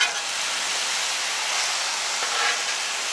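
Homemade ground pork breakfast sausage patties sizzle on a Blackstone griddle, a steady, close, dense hiss that holds level throughout with no talking.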